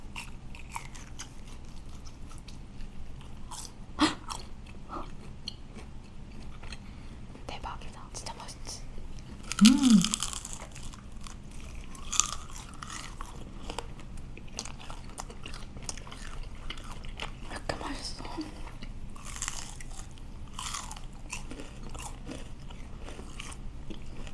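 Someone bites and chews crispy Chinese fried pork (guobaorou), with soft crunches and close mouth sounds scattered across a long quiet stretch, plus a louder crunching burst midway and faint murmured talk.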